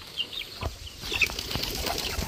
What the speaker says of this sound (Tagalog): Ayan, maraming kalapati oh. Dito sila naglalaro.